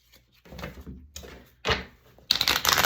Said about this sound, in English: Let's shuffle these a couple times.